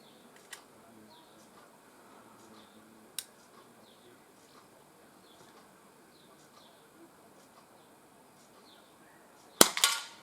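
A CP88 air pistol fires at an outdoor target: two sharp, isolated pops early on and a louder crack near the end, with birds chirping faintly in the background between shots.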